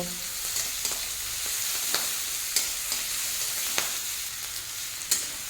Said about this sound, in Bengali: আদা রসুনটাকেও পেঁয়াজের সঙ্গে ভালো করে ভেজে নেব।